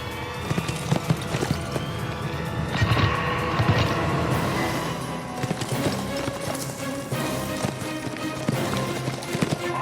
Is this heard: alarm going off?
no